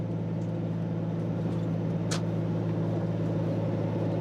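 A diesel 105 Landcruiser cruises uphill at 100 km/h while towing, heard from inside the cab as a steady, droning engine and road hum with one short higher hiss partway through.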